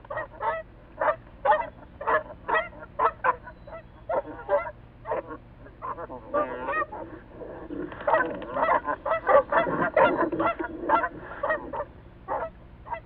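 Geese honking loudly in a raucous, repeated chorus with a gander joining in during a clash with a raccoon, the calls coming in rapid bursts that swell into a dense, overlapping clamor toward the end.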